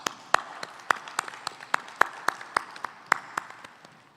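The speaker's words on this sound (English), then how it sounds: "let's give ourselves a big round of applause." Graduates at a convocation ceremony clap in a sparse, fairly quiet round of applause, with individual sharp claps standing out in an uneven rhythm and no talk over them.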